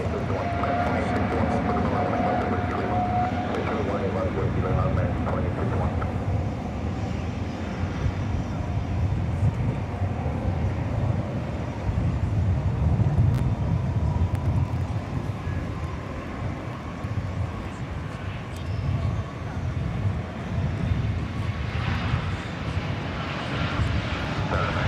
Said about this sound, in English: there you see the flight to Sao Paulo, which is slowly making its way down runway 18 left